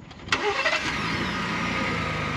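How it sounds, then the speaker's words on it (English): A truck engine starts by remote start: a short crank catches with a quick rev, then settles into a steady, continuous idle close by. "if I want to remote start it"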